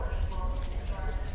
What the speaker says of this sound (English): so the clicking noise you're hearing is me walking around.